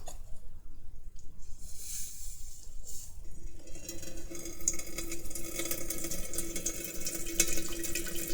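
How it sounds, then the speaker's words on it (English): Water is poured off a cooking pot into a kitchen sink without a colander, giving a steady, close splashing trickle. The flow grows fuller and stronger partway through. "I'm going to try and pour off just the water."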